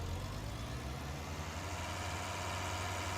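A farm vehicle engine in the Farming Simulator 19 video game idles with a steady, deep, even rumble, constant and close, with no talk over it.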